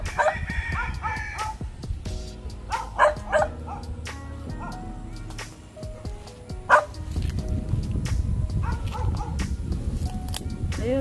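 A dog barks in repeated yips and woofs while playing with a cow at a rural home in Amadeo, Cavite, the barks coming in uneven bursts over a busy outdoor background with faint voices.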